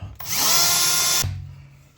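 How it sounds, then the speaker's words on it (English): Power drill boring a pilot hole during a FiTech fuel injection install, a loud steady whine lasting about a second before cutting off, leaving a fading low hum. "So we will begin by drilling our pilot hole."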